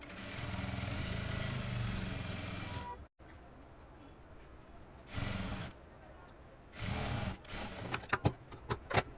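Sewing machine stitching a lined suit, running in loud bursts separated by short pauses, the motor whirring steadily then stopping, with a few quick stuttering stitches near the end.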